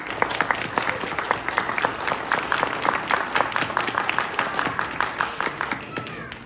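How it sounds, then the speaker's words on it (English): An audience at a Cinderella stage show applauds two acclaimed actors, Scapino and Pucinella, with steady, dense clapping from many hands that carries on for several seconds. "please give a round of applause to two of our most acclaimed actors"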